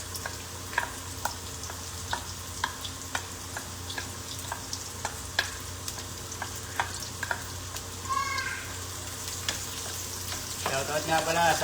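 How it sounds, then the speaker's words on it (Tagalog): Onions frying for chicken curry in a pan, a steady close sizzle with repeated sharp ticks and stirring scrapes, and a brief louder crackle near the end. "Lagyan natin sibuyas kasi ang sibuyas hindi madaling masunog."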